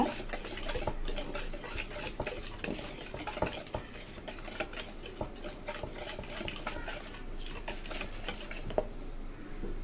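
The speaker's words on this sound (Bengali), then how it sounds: "শুকনো উপকরণগুলো ভালো করে মিশিয়ে নিব" Dry spices such as turmeric and chili powder are stirred together in a bowl for beguni batter, giving soft repeated scraping and clinking of a spoon, fairly quiet and steady.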